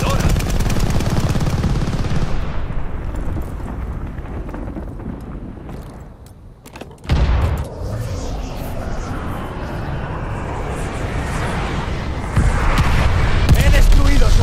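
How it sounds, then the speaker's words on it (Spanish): A glide bomb strike in Call of Duty: Vanguard multiplayer, with dense gunfire and heavy booming that cut out briefly before a loud impact and continued rumbling explosions. "Mandando una bomba planeadora."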